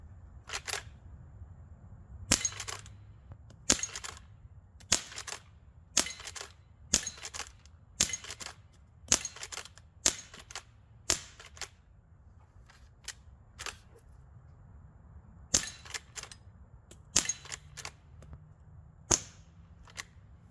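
Sharp gunshots crack from a Winchester 1894 rifle and a Colt 1873 revolver during a fast shooting run, a string of sudden loud reports at irregular intervals with short pauses and a faint background hum between them.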